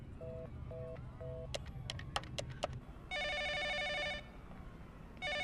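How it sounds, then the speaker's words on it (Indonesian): A telephone rings in a comedy scene with a few short beeps, then a long electronic trilling ring burst and the start of another, set against faint room noise and scattered clicks. "Ada telepon."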